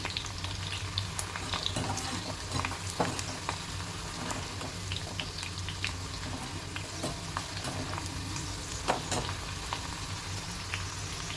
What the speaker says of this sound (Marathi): कांदा उडतो तेलामध्ये त्यामुळे सांभाळून जरा.